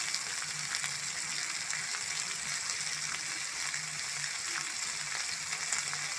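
Bitter gourd and potato sautéing in a hot pan, giving a steady, close hiss and crackle of frying that runs evenly throughout with faint stirring.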